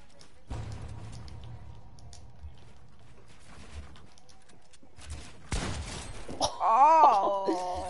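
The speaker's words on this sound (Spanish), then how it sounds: "Me pegaron un escopetazo que me dejaron bien loco" Loud, abrupt shotgun blasts ring out in a first-person shooter, with a sharp burst early and another near the end, followed by groaning, wailing game character vocalizations.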